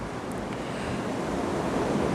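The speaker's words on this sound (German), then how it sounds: "Gewaltige Wogen, riesige Wellen" Large ocean waves and surf on the coast of Malta roar in a steady, loud, continuous wash, with wind buffeting the microphone throughout and no voices.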